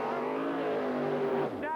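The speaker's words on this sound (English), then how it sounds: "First in the bleach box, ready to burn out." Supercharged outlaw drag car doing a burnout in the bleach box at a 1980s Australian Wild Bunch drag meet, a loud sustained engine roar that dips briefly near the end.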